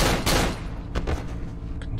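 Rapid bursts of gunfire from the survival horror video game Cry of Fear, loud and close, with a dense opening volley and more shots scattered through the rest, no speech.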